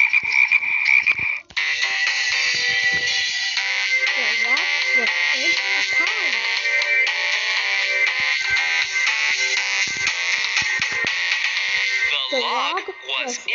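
A frog croaking sound effect plays as a loud, continuous buzzing croak that runs for most of the time, with a voice speaking over it in places.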